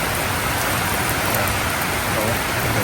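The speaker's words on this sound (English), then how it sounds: "heavy rain" Dense, steady downpour hisses loudly and evenly throughout, a constant wash of heavy rain with no voices.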